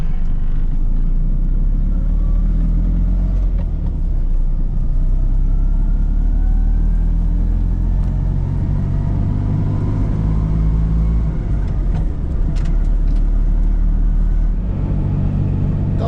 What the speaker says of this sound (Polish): Zrobię, zrobię sobie jeszcze jazdę próbną. Wiadomo, bardziej nowoczesne opony, inny profil.